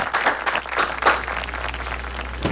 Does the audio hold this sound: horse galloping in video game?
no